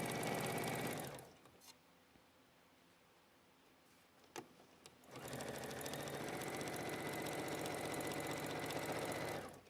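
A sewing machine speed-stitches a seam in two loud, rapid, continuous runs, with a quieter pause of a few seconds between them and a couple of small clicks during the break.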